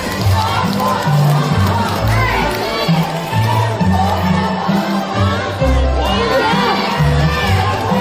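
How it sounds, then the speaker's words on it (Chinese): A crowd at the curtain call of a Yue opera gala cheers and shouts loudly, with excited voices and whoops overlapping in a dense, lively roar. "快点起哄啊！"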